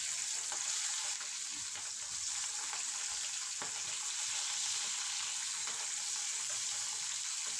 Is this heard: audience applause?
no